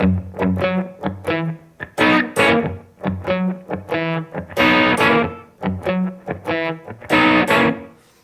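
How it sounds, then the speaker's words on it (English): Electric guitar plays a shuffle blues groove, drenched in heavy reverb, with distorted chordal stabs in a loping rhythm and short pauses between phrases, loud and alone. "There's a ton of reverb on it too, so it kind of gives it kind of this big echoey space."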